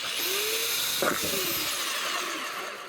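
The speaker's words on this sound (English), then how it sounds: "So I've got a jug and I got my drill." A power drill whirs at a steady pitch, its tone wavering briefly as it bites into a plastic jug, close and continuous for a few seconds.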